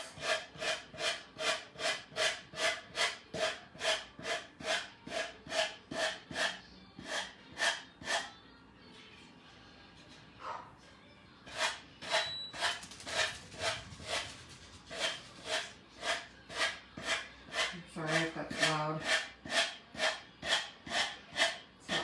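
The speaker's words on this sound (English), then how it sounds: "sanding tool, sand off the excess." A small handheld gator sanding tool rubs back and forth over a wall hanger craft piece, trimming off excess in steady rhythmic rasping strokes, close and clear, with a brief pause midway before the strokes resume.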